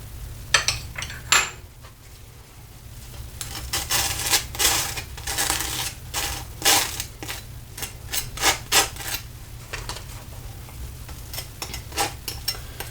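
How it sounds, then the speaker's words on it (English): A knife spreads butter across crisp toast in repeated strokes, a raspy close-up spreading sound with no talking. "Butter on toast in the morning, don't you?"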